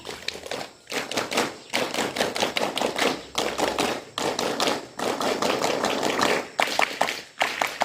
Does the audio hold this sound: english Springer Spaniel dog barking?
no